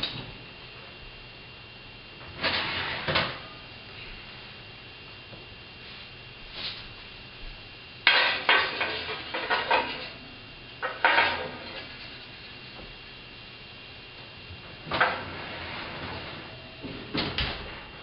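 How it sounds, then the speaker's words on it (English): Yakitori chicken skewers seasoned with tare slide into a broiler, giving a few separate clattering knocks of metal and wood at middle distance, spaced across a quiet background hum with no talking. "we're going to put them into the broiler."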